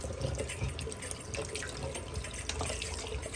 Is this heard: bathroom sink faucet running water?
yes